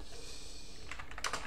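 Typing on a computer keyboard in a Linux terminal: a burst of several quick, close key clicks near the end after a stretch of low room hum, with no talking.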